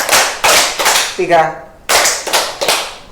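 Three sharp hand claps in a quick group, made during a classroom clapping exercise for teachers: right, left, then middle. A lone trailing tone sounds between them, and more claps follow afterward.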